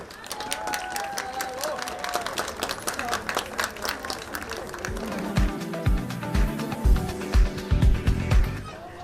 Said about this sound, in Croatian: Još jedan aplauz za pobjednike.